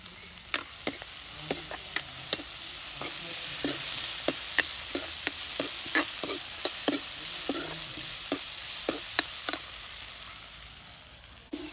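Onions and green chillies fry in hot oil for a village-style egg bhuna, a steady sizzle broken by repeated sharp scrapes and clicks of stirring, close and alone with no talk.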